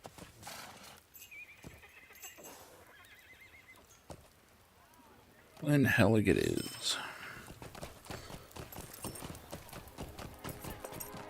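In Lord of the Rings Online, a horse lets out a loud, close neigh midway through, surrounded by rhythmic clip-clopping hoofbeats, while a voice talks over the quieter stretches.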